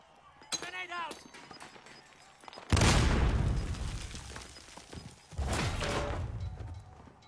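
Grenade explosions in a video game: two loud booming blasts, each rolling off over a couple of seconds, following a shouted voice and brief game sounds.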